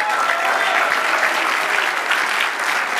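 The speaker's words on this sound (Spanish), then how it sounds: "Dale un aplauso al Señor." A church congregation bursts into dense, continuous applause, a loud even roar of many hands clapping together with a faint murmur of voices mixed in.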